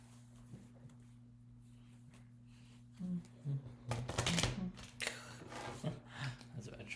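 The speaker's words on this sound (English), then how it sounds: "That's a bad shuffle." Tarot cards being shuffled close up, a papery riffle and flutter of quick bursts that grow louder partway through, with a steady low hum underneath.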